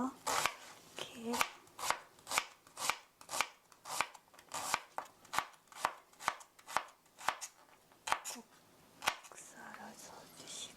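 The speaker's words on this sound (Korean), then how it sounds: "돌려서 찹스 그냥 썰어주세요. 잘게 썰은 거예요." Oyster mushrooms chopped finely with a knife on a board, a steady series of about twenty crisp, close knocks at a quick even rhythm, with faint rustling between strokes.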